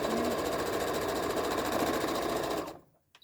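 A sewing machine stitches a line across the tops of small tote bag straps, running in a steady rapid mechanical whir at close range for nearly three seconds before stopping abruptly.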